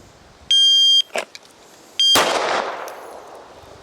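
Pistol shots in a shooting drill: two electronic shot-timer beeps, each followed by a sharp crack, the second one louder and trailing off into a ringing decay at close range.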